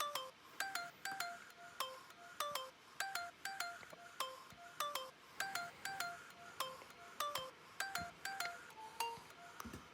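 Electronic lead synth for a tropical house track, a bright plucky melody of short pinging notes repeating in a steady, bouncy pattern throughout.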